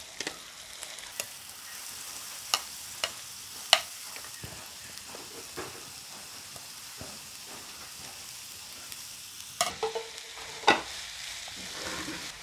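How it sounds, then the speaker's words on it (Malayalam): Two finely chopped onions frying in oil in a pan while making a masala, giving a steady close sizzle with occasional sharp clinks of a stirring spoon against the pan and no talking. "ചെറുതായിട്ട് അരിഞ്ഞു വെച്ചിരിക്കുന്ന രണ്ട് സവോളയാണ് അതൊന്നിട്ട് ഇട്ട് കൊടുക്കാം"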